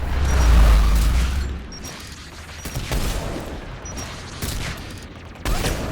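Gunfire and impacts sound in the video game Mass Effect 3: a heavy booming rumble opens, then scattered sharp shots and cracks follow at intervals, with a louder burst near the end.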